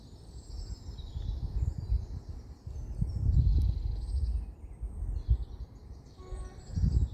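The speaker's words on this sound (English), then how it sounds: "Hear the birds," Birds sing outdoors in faint, high chirps and tweets over a steady low rumble of wind and distant background noise, with no talking.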